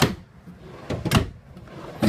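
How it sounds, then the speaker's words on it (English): Drawers in a 2015 Heartland Landmark Savannah RV pulled fully out, giving soft sliding rumbles and a couple of sharper knocks and clunks, close and moderately loud, with no speech. "And then we have 3 drawers. They actually go all the way out."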